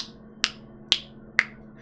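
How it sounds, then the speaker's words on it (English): Three sharp, evenly spaced ticks, roughly half a second apart, sound from a Salem witch trial video game, each a crisp click over a quiet low hum. "The mysterious ticking noise."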